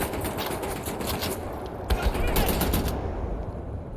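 Rapid bursts of automatic gunfire from the video game Wolfenstein: The New Order crackle across the clip, growing denser and louder near the middle, with a voice speaking over the shooting.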